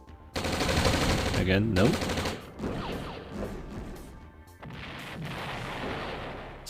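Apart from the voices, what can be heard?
unit gunfire in video game OpenRA Red Alert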